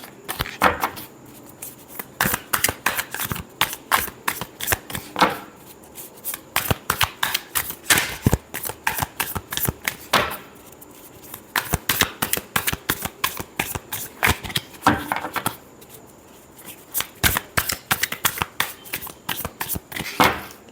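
Tarot cards shuffled over and over in quick riffling bursts, crisp and close, with short pauses between rounds and no talking.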